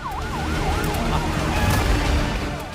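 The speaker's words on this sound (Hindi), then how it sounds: "सायरन बजने लगे" Emergency sirens wail in a rising and falling pattern over rumbling traffic in Gaza after a bombing, loud and continuous for a few seconds.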